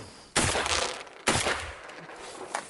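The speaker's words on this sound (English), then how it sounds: "Garrett, Stu, you can shoot." Two loud, close shotgun blasts fired at teal ducks during a waterfowl hunt in a snowstorm, about a second apart, each trailing off in a long outdoor echo.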